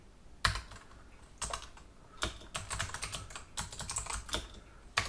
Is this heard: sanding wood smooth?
no